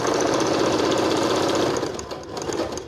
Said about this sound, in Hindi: ये पूरा लंबाई से ऐसी सिलाई लगा लेंगे।